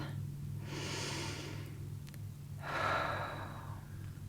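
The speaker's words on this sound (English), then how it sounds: "And I invite you to take a breath." A slow deep breath drawn in and then let out, two soft airy swells about a second and a half each with a pause between, close and quiet over a steady low hum.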